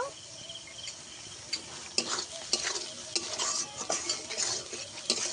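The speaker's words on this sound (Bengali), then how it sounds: "ভালো করে মশলাটাকে একটু কষিয়ে নিতে হবে যতক্ষণ না তেল ছাড়ে মশলা থেকে" Potatoes are stir-fried with salt and a spice masala in a pan, a utensil scraping and knocking the metal in repeated strokes over a steady sizzle, close and busy without speech.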